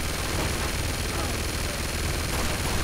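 Sustained automatic gunfire from a firefight in Uncharted 2, a constant dense barrage of shots that fills the whole stretch at close range.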